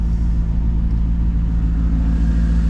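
A manual Mercedes C55 AMG engine idles while warming up in the cold, a steady, loud low rumble that holds without any change in pitch throughout.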